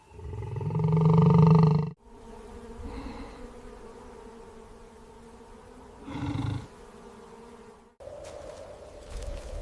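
A lion in the wild lets out a loud, deep roar lasting about two seconds, followed by a quieter low rumble and a second shorter roar, over an outdoor background.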